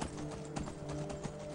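Horse hooves clop in Skyrim, a steady run of soft repeated hoof beats over a busy game background with faint music-like tones.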